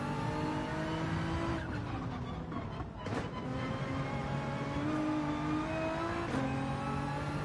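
A Porsche race car engine in Gran Turismo 7 during a World Manufacturer Cup qualifying race holds a loud, steady high-revving drone with shifting pitch, briefly dipping and surging around gear changes, with no voices.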